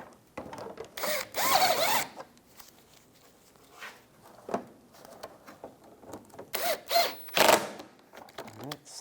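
A ratchet or power driver works on the front bumper cover screws of a 2004-2009 Toyota Prius, with short bursts of whirring and clicking separated by pauses and small handling noises.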